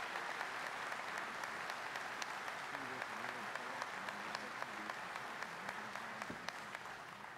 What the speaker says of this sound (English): Ladies and gentlemen, please give a warm round of applause to Raleigh Police Officer Scott C. Womack.